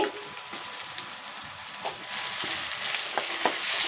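Ginger-garlic paste fries in a hot pan for a beans gravy curry, giving a dense, continuous hissing sizzle with light crackles. It grows slightly louder toward the end and plays alone, without speech.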